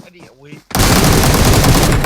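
Sustained automatic gunfire from an AKM rifle in PUBG Mobile, a loud, dense burst that bursts in abruptly after a brief moment of quieter voices and rattles on continuously to the end.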